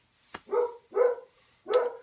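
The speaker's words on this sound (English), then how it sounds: "And cue the dog barking, yes, because my dog is also mad." Three barks from an angry dog, one sharp bark followed by two fuller ones in an uneven rhythm, close by and clear over a quiet background with no talking.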